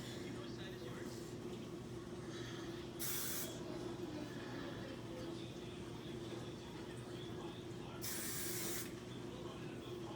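Two short, bright hissing bursts from an aerosol hairspray can, a few seconds apart, over a steady low background hum.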